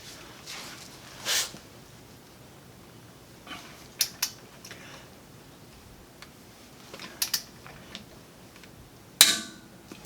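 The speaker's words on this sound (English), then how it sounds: "now we're going to get everything torqued down" A torque wrench tightens steering bolts during a high steering install, giving a few scattered, faint clicks and metallic ticks over a quiet workshop background.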